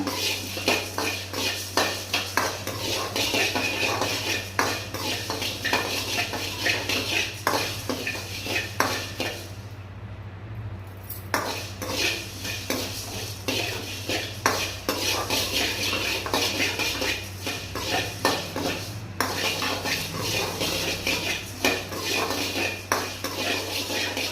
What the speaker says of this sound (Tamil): எல்லா பொருளையும் தனித்தனியாக வறுத்துக்கோங்க.